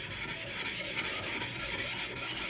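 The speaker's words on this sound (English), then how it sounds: "it's getting scratches removed from the 400 grit" A single bevel knife is ground on a 400 grit whetstone, giving a close, steady stream of quick, rhythmic gritty rubbing strokes with no pause.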